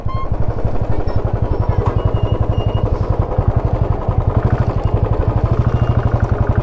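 Motorbikes pass through a crowded fair at the Magh Mela in Prayagraj, a rapid engine putter pulsing steadily up close with crowd murmur behind.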